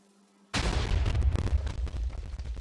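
A TNT cannon fires in a block-building video game, one sudden loud blast that sets off a dense, rumbling burst of crackling debris and rolling booms lasting a couple of seconds, with no voices.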